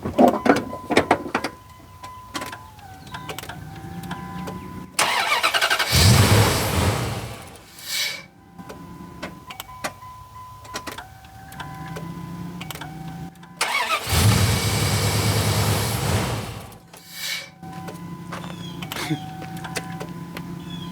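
A truck engine cranks twice on power from a JF Egwo 8250A jump pack. Each attempt is a loud grinding burst of a couple of seconds, with quieter clicks and rustling between them, and the engine never catches.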